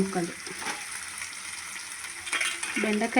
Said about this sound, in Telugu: ముక్కలు జిగురు పోయే వరకు మంచిగా నూనెలో వేపుకోవాలి